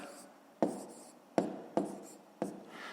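Handwritten numbers being marked on paper while working a column multiplication problem, heard as four distinct pen or chalk taps and strokes spaced irregularly, close and fairly quiet with no talking.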